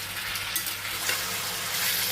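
Watermelon rind pieces fry in hot oil with turmeric and salt, giving a close, steady, even sizzle with no voices.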